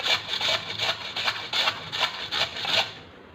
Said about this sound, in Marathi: आता हे पूर्ण आपण किसून घेऊया.